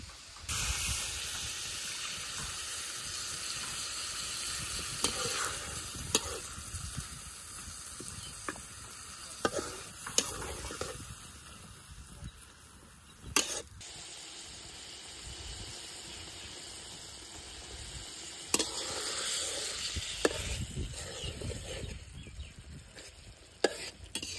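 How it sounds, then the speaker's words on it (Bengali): Fish in a pan, well fried down with spices, sizzles steadily and up close, with occasional stirring scrapes and clinks over a constant hiss and no talking. "মশলা দিয়ে মাছটারে খুব ভালোভাবে কষিয়ে নিয়েছি"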